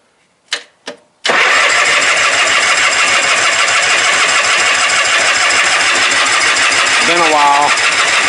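A race car engine cranks with two short bursts, then catches and roars into a loud, rough, continuous idle close by, with a brief rise in revs near the end.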